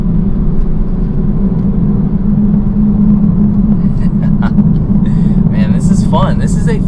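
Steady low engine drone from a 2018 Kia Stinger 2.0T turbo four-cylinder after a downshift, a continuous close rumble inside the cabin throughout, with faint higher whines and ticks near the end.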